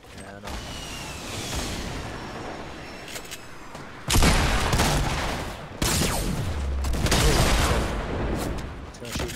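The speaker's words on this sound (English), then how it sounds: "He's gonna shoot another rocket." Rocket launcher fire and explosions in a Fortnite Battle Royale match: heavy bursts of blasts and booms, with loud impacts near four and six seconds, over continuous game noise and some voices.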